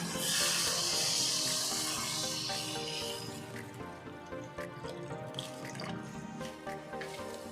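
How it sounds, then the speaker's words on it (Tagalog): Water is poured into a cooking pot for salmon head sinigang, a steady splashing rush at first that thins into lighter trickles and drips, close by in a home kitchen. "Lalagyan natin ng tubig."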